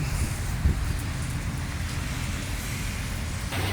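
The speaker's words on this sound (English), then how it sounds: "We caught the storm." Steady rain hisses and patters during a storm, heard while riding a motorcycle in Texas, over a low rumble of moving traffic, with wind noise and occasional thumps, continuous and moderately loud.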